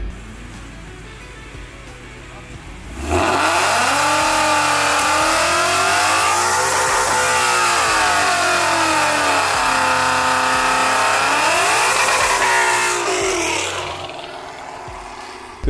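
A Maybach with its muffler deleted, revved hard: after a low idle, the engine erupts into a loud, sustained roar that climbs and falls through several rev swells before cutting back to idle.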